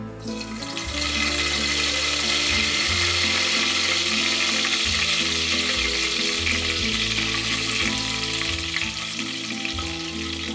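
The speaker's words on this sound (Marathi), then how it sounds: "तापलेल्या या तेलात कढीपत्ता घाला," Steady, loud sizzling of curry leaves dropped into hot oil, crackling continuously throughout, with music playing underneath.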